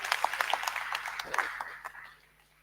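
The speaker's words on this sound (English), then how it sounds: "May you once more give a big round of applause to all my panelists." Applause for the panelists at an IEC KwaZulu-Natal thought leadership seminar: a modest scattering of distinct claps over a low hum, mixed with brief voices and tapering off toward the end.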